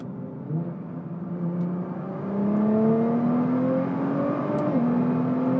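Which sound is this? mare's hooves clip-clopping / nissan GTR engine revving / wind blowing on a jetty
nissan GTR engine revving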